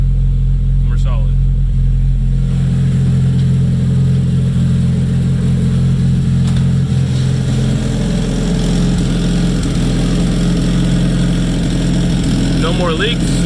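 A rebuilt Nissan KA24DET engine runs close by at a loud, steady idle with jumpy RPMs, its deep rumble carrying on without a break under faint scattered background noise.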